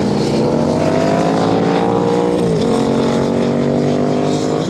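Motorcycles from a beginner run group lap a race track, giving a steady, loud, continuous engine drone with a brief pitch dip midway and no voices.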